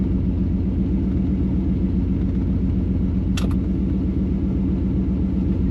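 A 1977 Corvette engine idles warm with a steady, rumbling, loud and close rhythm, and a brief faint higher click sounds partway through; no one speaks.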